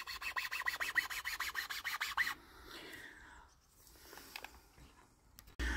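A file scrapes rhythmically against a wooden hiking stick while a hand grip is carved, about a dozen quick close strokes in a steady run, then quieter scattered rubbing and scratches, ending with a sudden thump.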